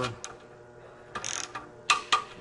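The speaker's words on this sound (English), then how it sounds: "Torque pattern on this starts in the middle, somewhere around there. Crisscross pattern." A torque wrench tightens oil pan bolts on a flywheel housing in a crisscross pattern, giving a few sharp ratcheting clicks spaced apart, close and fairly quiet over a faint mechanical background.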